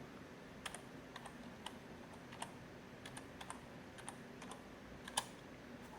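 Keys tapped on a computer keyboard while entering a new password at an Ubuntu Server login on a Raspberry Pi 4, with scattered, irregular clicks over a quiet room hum and one sharper keystroke near the end.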